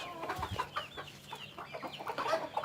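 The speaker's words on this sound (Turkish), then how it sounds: "Horozumuz çıkıyor maşallah. Tavuğumuz çıkıyor." A Cochin bantam hen and rooster cluck and chatter close by in short, soft repeated calls with a few higher squawks, fairly quiet.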